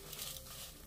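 Red chillies dry roasting with a handful of rock salt in a heavy-bottomed pan, a steady dry scraping and stirring rustle throughout, with a brief sharper clatter near the end and no voices.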